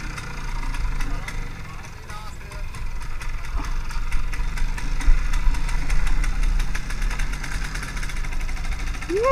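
An MZ 250 two-stroke motorcycle engine runs steadily with a knocking, idling throb close by, and people talk over it.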